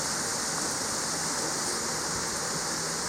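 Water runs steadily in a backyard pond, a constant broadband rushing and splashing like a small waterfall, close and unbroken throughout, with no voices.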